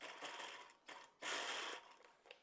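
A sewing machine stitches an organza skirt in quick bursts, whirring in two runs with a longer, louder stretch in the middle, close up and without talk.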